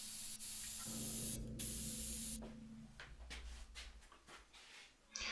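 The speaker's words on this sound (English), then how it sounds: "I spray a little on the piece of laminate and I spray some on the wood" Spray adhesive hissing from an aerosol can onto a piece of laminate and a wooden drill press table, a steady close hiss in two bursts followed by quieter handling sounds.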